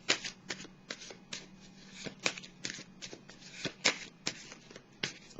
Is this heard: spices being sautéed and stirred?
no